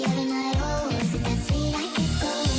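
A song playing in the video game Fortnite, sped up into high, chipmunk-like vocals over a steady, rhythmic backing track, heard loud and alone.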